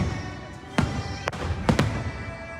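Fireworks burst in Florida, sending about four sharp bangs in uneven succession over a low background of crowd and music.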